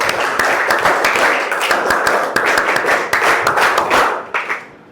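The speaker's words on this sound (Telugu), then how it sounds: "సార్ అందరం నుంచుంటాం సార్, ఒకేసారి చప్పట్లు కొట్టిస్తాం." A group of schoolchildren clap together in a busy, overlapping burst of rapid claps, loud and close, that keeps going before thinning out and fading at the end.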